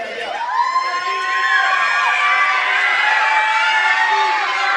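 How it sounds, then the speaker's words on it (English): A wrestling crowd cheers at a live EWF tag-team match, with loud, sustained shouting and high-pitched yelling from many people throughout. "And the crowd wants Andy Brown in there."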